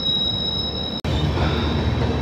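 Tripura Sundari Express passenger train rolling on rails, a steady loud rumble heard from on board with a thin high wheel squeal over it and a brief dropout partway through.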